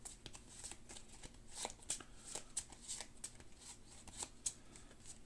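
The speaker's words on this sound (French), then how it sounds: "On mélange les cartes de tour." Turn order cards being shuffled for the Aeon's End Legacy board game, a series of quiet crisp riffling bursts and card snaps at a close, irregular pace over soft room noise.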